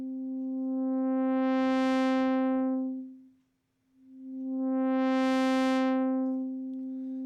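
A sustained sawtooth tone from a VCV Rack software modular synthesizer has its filter swept open and shut twice, going from dull to bright and brassy, then muffled, then brightening again.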